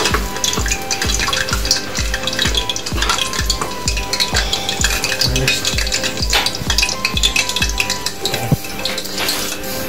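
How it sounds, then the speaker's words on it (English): Rice being stirred in a pot, a close rhythmic run of scraping and clinking strokes under a sizzling background, with no voices. "So Emma's taken over the stirring for the rice."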